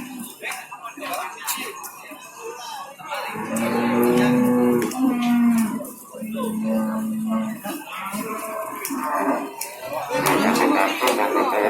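Cattle, including a large babon pegon bull, moo loudly and repeatedly at a busy livestock market in Tuban, several long low calls close by amid crowd murmur and people talking.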